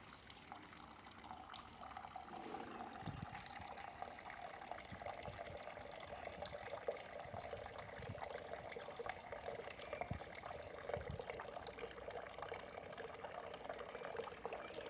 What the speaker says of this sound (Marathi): आता आपण हे पाणी भरून घेऊया पॉटमध्ये